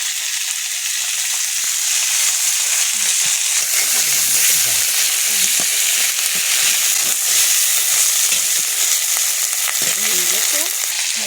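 Ginger paste and spices fry in a hot pan while cooking mung dal with a silver carp fish head, a loud, steady sizzle with occasional stirring scrapes, continuous throughout under brief bits of talk.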